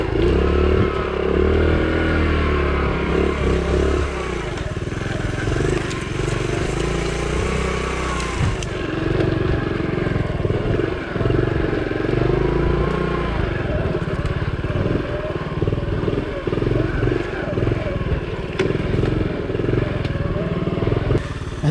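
Small Honda Trail CT70 motorcycle ridden along a woods trail, its little engine droning loud and close throughout, pitch rising and falling with throttle changes over bumps and clatter.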